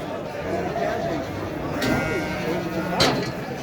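Several sheep bleat at a livestock market in Şarkışla, Turkey, over a busy, noisy background of crowd murmur and people talking nearby.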